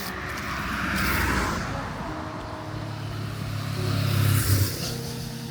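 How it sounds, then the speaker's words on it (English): A car approaches on a quiet rural road in Japan, its engine hum swelling gradually and peaking near the end, moderately loud against outdoor ambience. "Oh no, there's a car coming."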